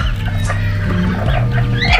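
An old brooding hen clucking nearby, low throaty repeated clucks and murmurs with a higher squawk near the end, fairly loud and close, no talking.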